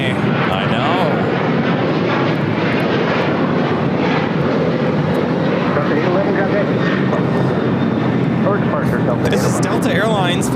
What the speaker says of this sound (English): This is Delta Airlines Flight 811 taking off to Miami, Florida on a 737-900ER.